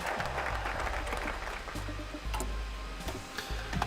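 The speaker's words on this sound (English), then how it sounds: "There is certainly a lot of clapping in communism, in the Soviet." Applause from a crowd in the Stalliongrad strategy game, a brisk stretch of many hands clapping at low volume with light ticking clicks mixed in, lasting a few seconds.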